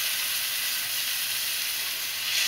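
Marinated chicken tikka pieces sizzling in a pan greased with oil, a loud, steady, bright frying hiss that carries on without a break, with no voices.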